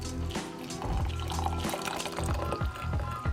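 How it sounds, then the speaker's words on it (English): Hot water poured into a cup onto a honey paste, a close, continuous gurgling pour with bubbling splashes that holds steady for a few seconds. "Then we add our hot water."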